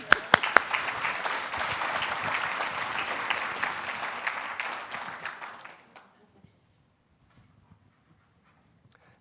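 A conference audience claps briskly for about six seconds. The applause then stops abruptly and the room falls almost silent, with only a few faint stray sounds.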